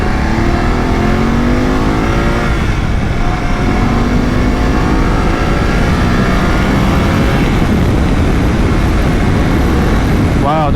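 A 2020 BMW F 750 GS motorcycle accelerates along a road, its engine loud and close as the pitch climbs through rising gears over steady wind rush, with no talk.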